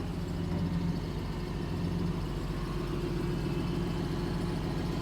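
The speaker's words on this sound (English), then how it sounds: "Engine sounds really good." An engine on abandoned logging equipment idles steadily and close by, a low, even rumble with a throbbing beat that carries on without break and with no talk over it.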